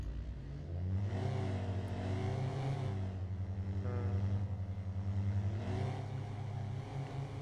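Car engine in the Martinique RP video game revving after being repaired, several rising and falling revs at moderate, slightly distant level, no talking.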